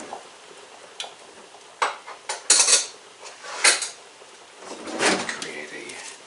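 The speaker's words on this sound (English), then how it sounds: "I just wanted to stir it up just a little bit." A spoon scrapes and clinks in a pot of thick marinara sauce, giving a handful of irregular metallic taps and scrapes close by, with faint background noise between them.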